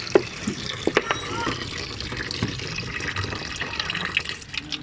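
Coolant water drains quickly from the radiator of a Suzuki Every DA64W wagon with the cap removed, a steady close splashing and trickling with a few sharp drips.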